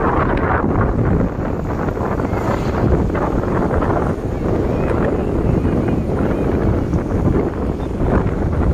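Strong wind blasts steadily across a beach, a loud continuous roar of gusts buffeting the microphone with no letup, surf faintly mixed underneath.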